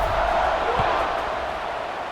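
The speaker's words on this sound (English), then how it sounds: "They're set to kick it off, and this crowd now ready to get behind them." A stadium crowd in a football video game roars steadily before the kickoff, a dense, sustained wall of cheering with no clear break, loud and close throughout.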